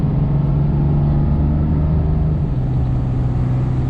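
A 2007 Dodge Ram 4x4 with a 5.9L Cummins diesel idles close by, a steady low rumble with a droning hum that holds even and loud throughout, no voices over it.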